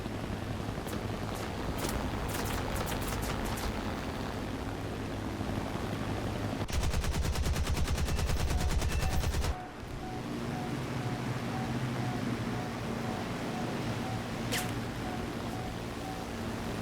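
A Typhoon Mk 1B fighter's cannons fire in War Thunder: a dense, rapid burst of gunfire runs for about three seconds over a steady engine drone, with scattered sharper shots before and after.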